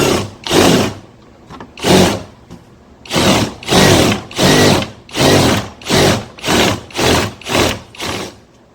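Power drill fitted with a countersink bit, driven in a dozen short bursts of whirring, nearby and loud, the pauses growing shorter and the rhythm steadier toward the end.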